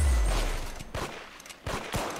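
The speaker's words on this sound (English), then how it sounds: "is this a new pistol?" Pistol gunfire in the Arsenal video game, several sharp shots spaced about a second apart, loud and close with little talk around them.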